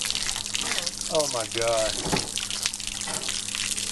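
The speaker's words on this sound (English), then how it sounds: "go ahead and shut the water pump off" Water runs from a motorhome tap fed by an onboard water pump, a continuous splashing flow near the microphone, while a person exclaims over it.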